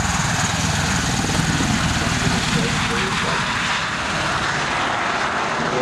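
A tiltrotor aircraft flies on its rotors at Farnborough Airshow 2012, slowly transitioning toward wingborne flight, producing a loud, steady, continuous engine and rotor roar that fills the whole span with a dense broadband drone.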